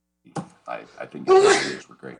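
A single short, sharp sneeze bursts out at close range in the middle of a person's sentence, with talk before and after it.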